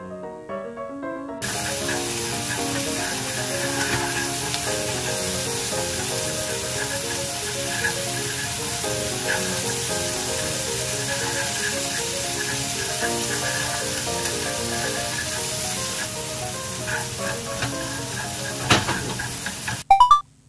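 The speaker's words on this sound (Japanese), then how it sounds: "ベーコンを分離させたいので角運動を与えながら混ぜます。" Bacon sizzles and fries in a pan for omurice, stirred in small and large circles, a steady loud crackling hiss running continuously under background music with a few clattering utensil knocks at the end.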